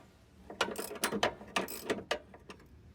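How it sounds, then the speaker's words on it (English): A hand socket ratchet works an 18mm socket on the U-link bracket bolts under a car's floor pan, giving a close, quick run of clicking pawl bursts in short uneven strokes for a few seconds. "Then use an 18mm socket to remove the remaining 2 bolts that secure the U-link bracket to the floor."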